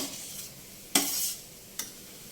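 Grated coconut being roasted in a pan for coconut carrot sesame laddu. A faint dry hiss is broken by two brisk scraping stirs of a spoon, close and quiet.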